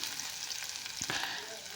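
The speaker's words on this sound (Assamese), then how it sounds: "মই পিঁয়াজ কিডোখৰ এতিয়া অলপ ভালদৰে ৰঙচুৱা হোৱালৈকে মই ভাজি থাকিম।" Onions sizzle in hot oil as they fry until browned, the first step of a fish curry; a steady, close crackling hiss runs throughout with a faint stir near the middle and no talking.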